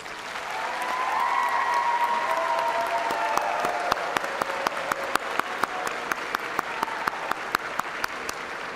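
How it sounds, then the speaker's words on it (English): A large crowd at a university commencement ceremony applauds steadily for several seconds, swelling and then holding, with a few sharper individual claps standing out near the end. "please join me in showing your appreciation for these very important people in your lives with a generous round of applause"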